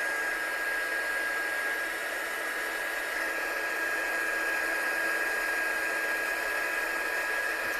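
A heat gun blows continuously to heat set stamped ink on watercolour card, a loud, steady hot-air roar with a faint high whine, unbroken throughout and no voices.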